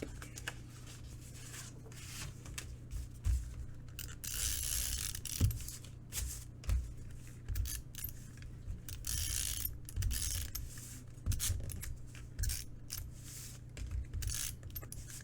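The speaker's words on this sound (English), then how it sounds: "hold it in place while I cut through it with my die cutting machine" A die cutting machine is hand-cranked to cut through card, giving faint, intermittent mechanical clicks, ratcheting and grinding in uneven bursts over a low hum, close but quiet.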